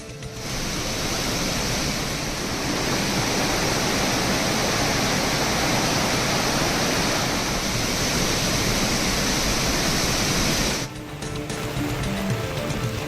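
Flooded waterfalls on the Cauvery river at Hogenakkal roar as a loud, dense, unbroken rush of water, steady throughout before a brief shift in the noise near the end.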